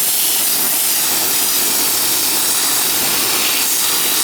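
A garden hose sprays water over a residential AC condenser unit sunk down in the dirt, making a loud, steady, close hiss of spray that runs unbroken the whole time.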